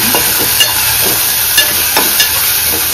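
Turmeric sautéed in hot oil for a cashew curry, a steady loud sizzle and hiss with periodic scraping stirs of a spatula through the pan, no voices.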